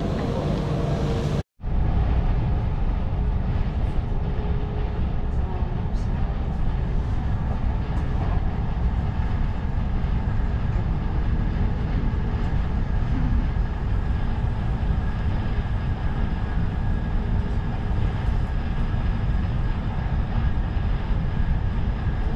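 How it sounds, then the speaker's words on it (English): An intercity train bound for Rotterdam rumbles steadily from inside the carriage, a loud continuous low roar after a brief cut near the start, with no talking. "We're now going to ride the intercity train to Rotterdam"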